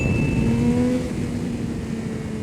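A 2022 Triumph Speed Triple 1200 RS motorcycle accelerates hard in second gear for a wheelie on a highway, its engine note loud and close with a rising, steady roar.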